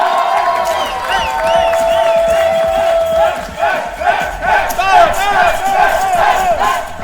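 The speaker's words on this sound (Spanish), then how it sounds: "Pues aquí está la algarabía, está la fiesta del cierre de los Olímpicos Reñoños." A lively crowd at the closing party of the Reñoños Olympics cheers and whoops, with overlapping high shouts and yells rising and falling in loud bursts over a constant festive din.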